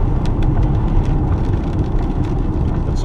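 A 2014 Opel Mokka SC cruises along a road, a steady low engine and tyre roar filling the cabin without a break.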